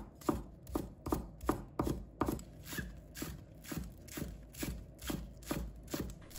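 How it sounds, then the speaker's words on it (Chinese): A knife chops green onions on a cutting board in a steady run of sharp, close strikes, about two per second, with no voices. "把它切成葱花。"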